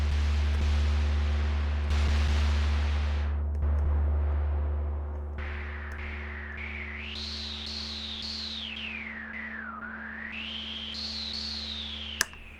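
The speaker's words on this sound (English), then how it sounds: "white noise." A Behringer D-mini synthesizer hisses out broadband white noise, starting loud and steady, then filtered with a sweeping cutoff that rises and falls over a constant low drone.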